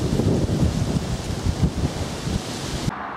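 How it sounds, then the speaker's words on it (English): Strong wind roars and buffets the microphone during a countryside walk from Cowden to Hever in late November, with a loud, steady rushing that gusts unevenly and then cuts off abruptly near the end. "Still a pretty strong wind."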